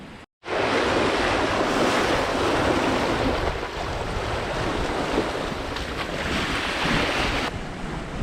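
Steady, loud wind and rushing waves wash over a Hallberg Rassy 54 sailboat running under genoa in about 25 knots on a rolly sail along the Jamaican coast, a continuous roar broken only by a brief dropout at the start.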